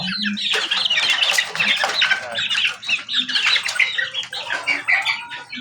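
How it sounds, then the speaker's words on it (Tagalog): Backyard chickens and young chicks squawk, cluck and chirp continuously and close by, their calls overlapping in a busy flock chorus with no speech. "Pakita sa inyo yung mga alaga ko. Yan mga idol, mga sisiw ko."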